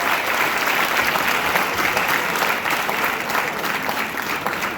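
Audience applause for a new chief guest at a college pharmacy day celebration, steady dense clapping throughout, loud and close with no pauses.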